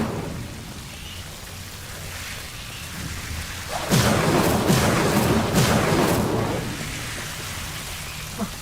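Fiery Incendio spell blaze burning Devil's Snare in Hogwarts Legacy, a crackling roar that swells suddenly midway with bursts of whooshing flame, then eases back toward a quieter hiss.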